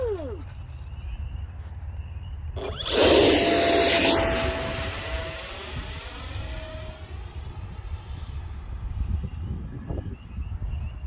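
Freewing 64mm F-22 model jet with a 12-blade electric ducted fan spools up into a loud rising whine that then holds steady, with wind rumble underneath and some voices in the background outdoors.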